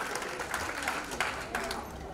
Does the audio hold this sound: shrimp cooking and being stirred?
no